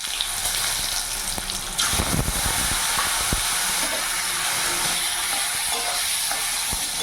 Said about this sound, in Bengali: বেগুনগুলো লাল লাল করে ভেজে নেব